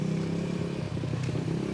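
A motorcycle engine drones past on a street in Naic, steady and fairly close, with light rattling and scraping over the continuous low hum throughout the short stretch.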